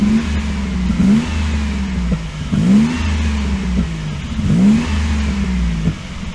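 A Mazda 3 engine revs up and falls back three times in a steady rhythm, each rise loud and close over a continuous idle drone, no one speaking.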